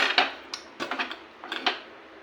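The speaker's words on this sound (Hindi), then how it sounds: "और मैं ढक्कन बंद कर देती हूँ कुकर का।" A pressure cooker lid is fitted and shut in a home kitchen, giving a scatter of light metallic clicks and taps in small clusters, close and moderately quiet with no talk.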